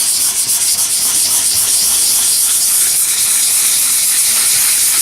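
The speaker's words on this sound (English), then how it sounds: "Circular motion sanding." A chipped spot of car paint is sanded by hand in circular motions. The close, loud, continuous abrasive rasp stays steady throughout, with no talking.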